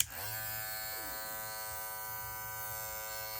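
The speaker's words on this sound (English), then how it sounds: "Very, very quiet clipper." JayBlends TPOB Troll hair clipper switched on for a sound test, giving a steady, quiet, even electric buzz with a brief start-up at the beginning.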